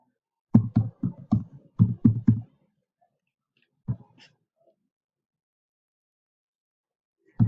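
Keys on a computer keyboard are tapped in a quick burst of separate clicks while entering data into an MS Excel spreadsheet, then a lone click after a pause and another at the end, crisp and close in otherwise silent surroundings.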